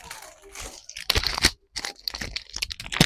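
Someone eating a biscuit, with a few close, sharp crunches and softer chewing between quiet pauses.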